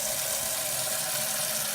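Water pouring steadily from a tap into a bucket, a continuous loud hiss and splash that runs unbroken from start to finish with no voices.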